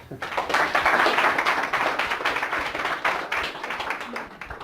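Clapping from a seminar audience at an NLP training session, a moderate burst of hand claps that swells early and then slowly thins out, with some room noise mixed in.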